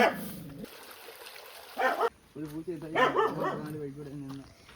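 A dog barks a few times nearby, mixed with people talking and the trickle and splash of water running in an opened canal.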